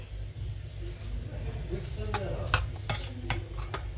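Whisk or spoon stirring thick waffle batter in a bowl, a series of soft scraping taps and clinks at close range, with a person talking over it.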